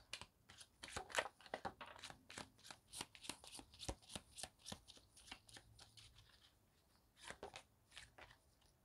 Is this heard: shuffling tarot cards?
yes